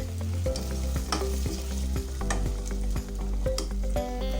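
Two to three large tomatoes frying in a pan for a white chickpea curry, with a loud continuous sizzle and rhythmic stirring strokes about every half second, close up with no talking.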